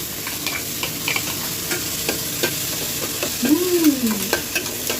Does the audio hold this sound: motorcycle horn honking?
no